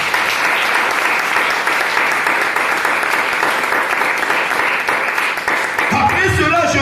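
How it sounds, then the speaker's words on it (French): A church congregation breaks into loud, sustained applause that fills the room steadily for several seconds, with a few voices rising near the end. "Est-ce que tu peux acclamer pour la parole de Dieu?"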